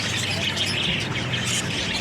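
Pet parakeets squawking in a cage, a dense, steady chatter of harsh calls and chirps close by, continuous throughout with no pauses.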